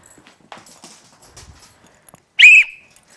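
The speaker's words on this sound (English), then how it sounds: "I'm going to blow the whistle." A single sharp, shrill whistle blast rings out briefly and close by to recall a rescued shelter dog indoors, following faint shuffling and rustling sounds.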